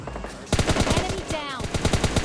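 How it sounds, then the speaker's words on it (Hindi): Rapid automatic gunfire in the PUBG Mobile Lite video game, a loud dense string of evenly spaced shots that continues without a break, with a faint voice briefly underneath. "फायरिंग चल रहा था।"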